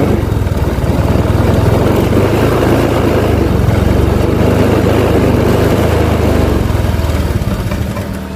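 A Honda Vario 125 scooter with a sputtering fault roars loudly and continuously as it is revved, the engine note rough and uneven with no speech heard over it.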